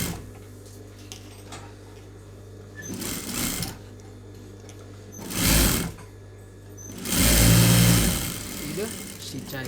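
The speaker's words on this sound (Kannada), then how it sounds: "ಇದು ಫುಲ್ ಸ್ಟಿಚ್ ಹಾಕೋಂಥ ಟೈಮಲ್ಲಿ ನಮಗೆ ಜಸ್ಟ್ ಒಂದು ಫೋಲ್ಡಿಂಗ್ ಮಾಡಿ ಒಂದು ಸ್ಟಿಚ್ ಹಾಕ್ಕೋರಿ." A sewing machine stitches a folded blouse seam in short bursts, running three times with rising then steady motor whir between quieter pauses, close and fairly loud over a low background hum.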